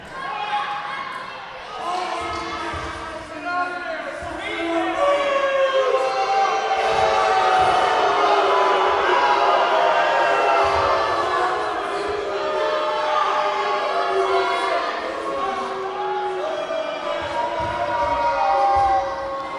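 A wrestling crowd at an indoor show roars and jeers as a wrestler named Powers takes the microphone, a sustained wash of many voices that swells and stays loud.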